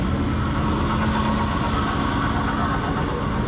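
A 1976 Ford L-800 fire truck engine idles smoothly at close range, a steady low rumble with an even hum and no voices.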